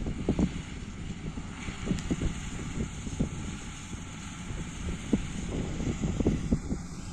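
A John Deere 952 combine harvester threshing soybeans in a field gives a steady low mechanical rumble with irregular knocks and rattles, heard alone at a moderate distance with some wind noise.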